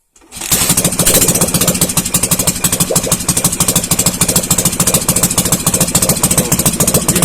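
A loud motorcycle engine from an MT motorcycle, started for the first time, starts up and settles into a fast, steady running rumble with a rapid pulsing beat, close by and continuous.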